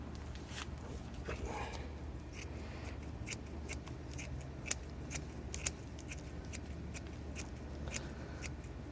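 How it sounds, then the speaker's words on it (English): Quiet, repeated snips of scissors cutting fiberglass into small shreds. The cuts come in an irregular rhythm over a low steady background, with no talking. "we're going to take about that much fiberglass and we're just going to pull it to shreds. I'm even going to cut it up even more."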